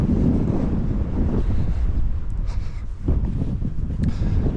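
Steady wind gusts buffet a microphone outdoors on an off-road trail in Sedona, a continuous low roaring rush with no voices.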